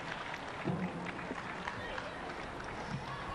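Stadium supporters at a Brisbane Roar vs Perth Glory A-League Women football match give a fairly faint, steady round of applause for an injured player, heard beneath commentators' voices.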